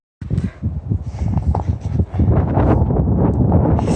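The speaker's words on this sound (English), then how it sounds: "It's windy. Look at the wind." Wind gusting across a frozen lake during an ice camping trip, loud rumbling buffets against the microphone that start abruptly, rise and fall in gusts, then settle into a steady roar.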